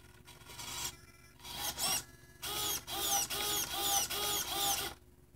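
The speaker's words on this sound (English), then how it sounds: "you can hear that Savox just making all kinds of noise in there." Noisy Savox steering servo in an RC car, whining and grinding in repeated bursts that start and stop, close up and fairly loud with a faint background hum.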